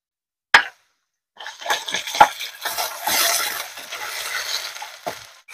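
Soaked chana dal tipped into a pan of spinach masala curry: a sharp clink, a short pause, then a steady sizzling rush with scraping and stirring clatter that fades near the end.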